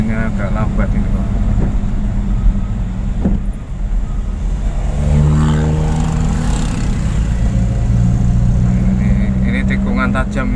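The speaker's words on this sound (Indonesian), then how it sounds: "Ada truk muatan kayu, jadinya agak lambat ini kok." A truck loaded with wood moves slowly along a winding road, its engine a steady low rumble heard from nearby traffic, with a voice faintly under the noise.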